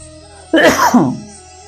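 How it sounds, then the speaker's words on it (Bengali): A single sharp, close cough bursts out once, loud and brief, in a quiet pause during a spoken Hindu religious discourse. "একটু কাশি পাচ্ছে"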